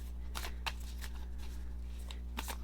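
Tarot cards are shuffled close up in a few quick riffling bursts separated by short pauses, soft and crisp against a low steady hum.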